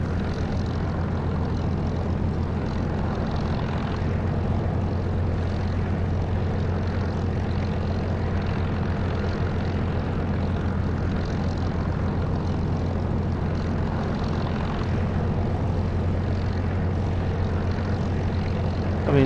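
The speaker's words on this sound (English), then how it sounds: "But the Mosquito is nice, and it's got 2 Merlin engines" Twin Merlin engines of a de Havilland Mosquito in the DCS flight simulator, a steady loud propeller drone with a constant low throb, unbroken and even for the whole stretch.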